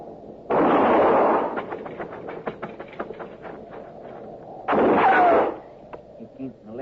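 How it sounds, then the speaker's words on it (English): Gunshot sound effects in a 1952 Gunsmoke western radio drama, two loud, sustained booming blasts a few seconds apart, with quieter crackling and clattering between them. "I'm going to fire and roll away, maybe draw a shot."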